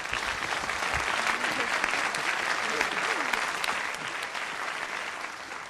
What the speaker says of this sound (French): Levons-nous tous et applaudissons le commandant